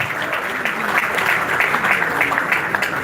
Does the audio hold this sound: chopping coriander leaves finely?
no